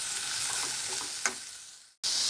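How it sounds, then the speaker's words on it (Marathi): Mixed vegetables sautéing in a pan, a steady close sizzle with one brief scrape of a spatula, then a short break before the frying sound returns. "5 मिनिटं झाली आहेत ह्या भाज्या परतून"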